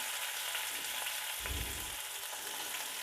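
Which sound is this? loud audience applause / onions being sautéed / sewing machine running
onions being sautéed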